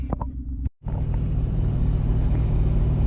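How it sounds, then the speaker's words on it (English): A Ford F150 with a 5.0 engine and an MBRP exhaust cruises down a highway, giving a steady, close, low rumble that cuts out for a split second before resuming evenly. "here we are driving down the highway, well, kind of a highway"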